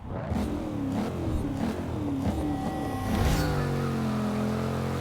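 A modern American muscle car with a 550-horsepower engine revs hard. Several rising, throaty pulls follow one another nearby, then the engine settles into a steadier, sustained drone toward the end, with no talking over it.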